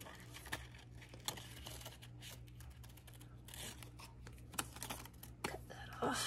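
Scissors trimming close around a printed paper piece for a Halloween pastel masterboard glue book, with soft crinkly snips and paper handling scattered through the clip under light background noise and a faint voice.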